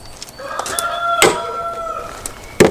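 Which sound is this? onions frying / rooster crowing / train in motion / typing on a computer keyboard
rooster crowing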